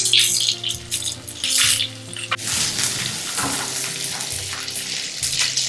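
Onion with pepper and cumin sizzling loudly in a hot pan for a mutton nalli fry, with steady frying hiss and intermittent scraping of a spoon as it is stirred, close and continuous.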